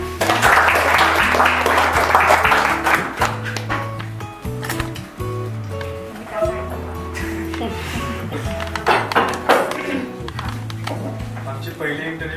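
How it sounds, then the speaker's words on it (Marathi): A live classroom audience in a Pune teaching session breaks into a short burst of clapping at the start, which fades as tonal sounds and voices take over. "पहिले त्याच्यासाठी टाळ्या वाजवा."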